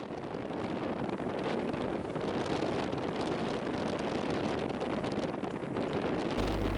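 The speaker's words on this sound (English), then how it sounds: "the wind was pretty strong" Strong wind of 20 to 25 knots roars steadily across the microphone aboard the sailboat Magic Hawk, a loud, unbroken buffeting rush with faint water and hull noise beneath and no talk.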